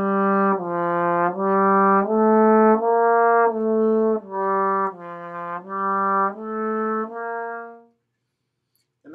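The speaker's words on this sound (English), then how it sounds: "Now that's a legato tongue slur" A trombone plays a smooth, legato-tongued run of about eleven sustained notes, stepping down and back, alone and close, ending in silence.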